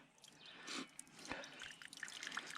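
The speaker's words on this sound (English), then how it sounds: "we're going to let the water roll to the one side" Water trickles and drips off a Gold Hog multi sluice in the field, soft irregular splashes and dribbles close by, with a few brighter drops standing out against quiet surroundings.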